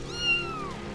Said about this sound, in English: It's a kitten, dude.